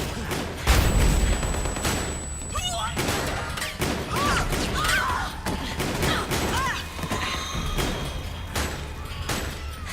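A sustained Metal Gear Solid gunfight rattles on with scattered shots, crashes and impacts amid a busy game soundtrack, with occasional vocal effects mixed in.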